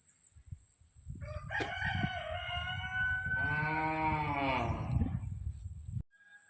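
A rooster crows once in a drawn-out, rising and falling call, fairly close, in a village with houses close together, over a low rumbling background with a steady high hiss throughout.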